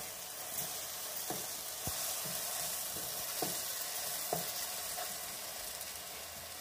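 Masala macaroni cooks in a covered pan, giving a steady, close sizzle of frying with occasional soft clicks and pops and no voices.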